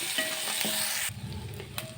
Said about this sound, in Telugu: పది జీడిపప్పుల్ని ఇందులో వేసుకొని ఫ్రై చేసుకోవాలి